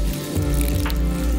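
Water pours steadily from a container onto a potted plant, a short, continuous splashing trickle heard up close.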